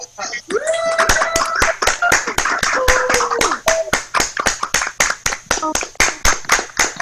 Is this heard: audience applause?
yes